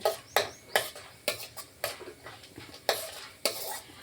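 Peanuts and chana dal with cumin frying in hot oil in a pan, a steady soft sizzle broken by repeated sharp scraping and stirring strokes at a quick irregular rhythm, close and fairly loud, with no voices.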